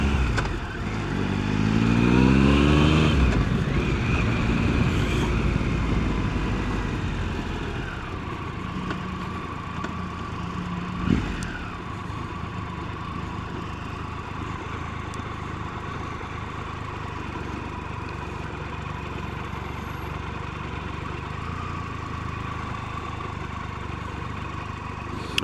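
An adventure motorcycle rides through city streets. Its engine climbs in pitch as it revs hard early on, then settles into a steady mid-pitched hum over a constant wash of traffic.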